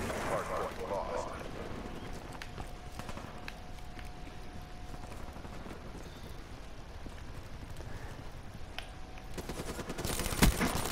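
Dense gunfire in Call of Duty: Black Ops 3 on the Nuketown map during a Hardpoint match, with a continuous rattle of shots under game sounds and a sharp loud crack near the end; a voice talks over it.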